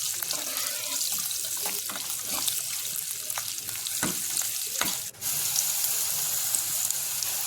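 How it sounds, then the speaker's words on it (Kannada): Chicken masala ingredients sizzle and fry in hot oil, a steady close hiss with occasional stirring knocks and a brief dip partway through, no talk. "ಎಲ್ಲವನ್ನು ನೀಟಾಗಿ ಎಣ್ಣೆಯಲ್ಲೇ ಸ್ವಲ್ಪ ಹೊತ್ತು ಬಾಡಿಸ್ಕೊಳ್ಬೇಕು, ಹಸಿ ವಾಸನೆ ಹೋಗೋ ತನಕ"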